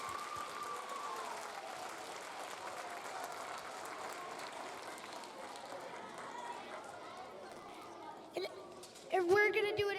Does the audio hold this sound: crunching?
no